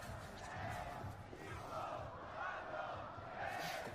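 An esports arena crowd at a Valorant Champions Tour match in Santiago roars and chants in swelling waves, a loud, rhythmic mass of voices rising and falling across a big hall.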